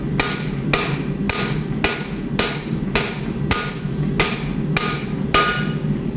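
A hammer rings on an anvil while a rasp hawk is forged, striking about nine evenly spaced, loud, sharp metallic blows with no talking.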